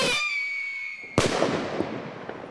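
Consumer fireworks cake set off outdoors, a whistling, hissing shot tailing off into a sharp bang, followed by a crackling spray of smaller pops that fades away.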